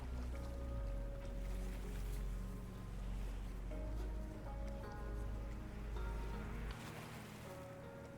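Looping ocean waves ambience plays steadily under background music on a live stream, a continuous soft wash of surf that drops away near the end.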